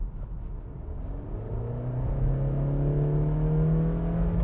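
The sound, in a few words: Honda CR-V Touring with CVT accelerating at full throttle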